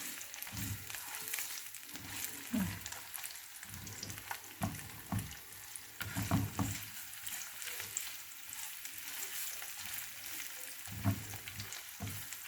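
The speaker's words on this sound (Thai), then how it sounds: "เอามาผัดกระเทียมก่อนเนาะผัดกระเทียมก่อน" Garlic stir-frying in a pan gives a soft, steady sizzle broken by repeated scraping and clanking strokes of the spatula, close but fairly quiet, with no voices.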